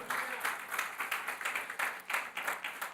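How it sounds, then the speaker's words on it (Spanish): A church congregation applauds in dense, steady clapping during a sermon, a continuous crowd of hands at moderate distance, fairly faint, with no other sounds on top. "Denle un aplauso al Señor."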